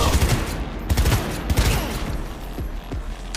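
Rapid bursts of gunfire from a favourite weapon in the video game Cyberpunk 2077, loud, sharp and close, with shots repeating irregularly across the whole moment.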